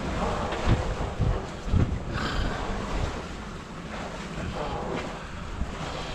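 Steady, gusty wind rushes over a sailboat at sea near a headland, with a constant broadband roar, water washing around the hull and a few stronger buffets against the microphone.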